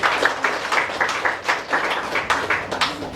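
An audience at a welfare center dedication ceremony claps, a sparse, moderately close patter of hands with rhythmic bursts across the short stretch.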